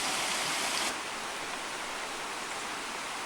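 Patterson Creek near an old mine site runs with a steady broadband rush of flowing water, close and continuous, slightly louder in the first second before settling to an even wash.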